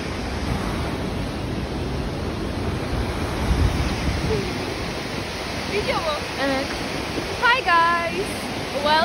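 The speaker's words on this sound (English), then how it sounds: "it's so loud because of the water." A waterfall in Tarsus roars as a constant, heavy rush of water, with faint voices and bird-like chirps breaking through toward the end.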